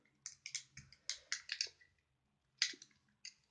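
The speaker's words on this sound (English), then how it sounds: "This dice bit here, you just got to click them." The dice-style buttons on a fidget cube are pressed in a quick, uneven series of sharp little clicks. They are quiet and close, with a short pause before a few final clicks and no voices.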